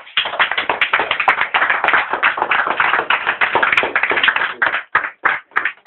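A church congregation claps loudly and steadily in a rhythmic beat while acclaiming the Lord, dense overlapping hand claps filling the space, thinning into scattered claps near the end.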